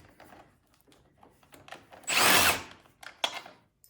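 A power tool whirs in one strong burst, then gives a shorter follow-up zip, while taking bolts off a Troy-Bilt snowblower. The air breather cover area has a dirty carburetor. The rest is quiet handling noise.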